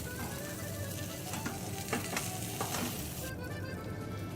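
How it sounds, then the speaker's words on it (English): A hot pan sizzles steadily as it is deglazed with an acidic liquid and butter is added, giving a continuous close frying hiss with a few brief louder bursts, then a slightly duller sizzle near the end. "The pan is hot, so I'm gonna deglaze it."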